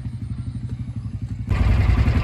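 A motorbike engine on a ride through the forest near Ubud, Bali, starting as a steady, throbbing idle-like chug and then abruptly growing louder and rougher as it revs up, close to the listener.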